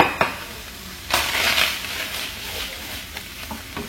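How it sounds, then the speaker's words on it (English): Chopped small onion tipped into a pan over medium heat, giving a sharp clatter then a bright sizzle that swells for a moment and settles into a steady frying hiss, close and alone without talk. "now we're going to add our onions"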